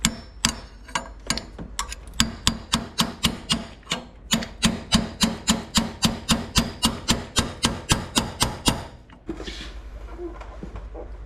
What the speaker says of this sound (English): I gotta hammer it down further